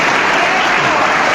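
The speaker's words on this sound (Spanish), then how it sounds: "Aplauso fuerte, que se oiga" Sustained audience applause from a church congregation, a dense steady wash of many hands clapping at close range, loud and unbroken throughout.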